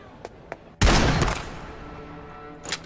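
Gunshots in a Thai-dubbed animated series: a couple of faint clicks, then a loud, sharp blast with a rough decaying tail lasting about half a second, followed by a quieter burst near the end.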